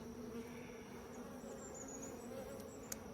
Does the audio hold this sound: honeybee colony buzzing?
yes